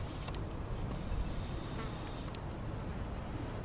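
Flies and a wasp buzz around a plant high in the mountains at about 12,000 feet, a continuous faint droning hum against wind-like background noise.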